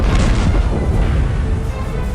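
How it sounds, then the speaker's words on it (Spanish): Cannons firing during a battle between Mexican defenders and attackers at a fort, heard as a loud, continuous, rumbling boom that fills the whole span with no break. "ante la explosión de los cañones nacionales"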